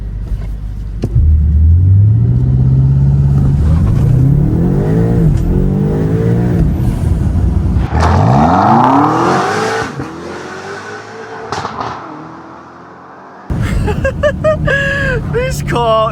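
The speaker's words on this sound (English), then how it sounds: "What we can do is we can test a quick launch." A modified BMW G90 M5 launches hard, its engine roaring up through rising sweeps with brief dips at each gear change. The exhaust is loud and close, and someone talks excitedly over part of the run.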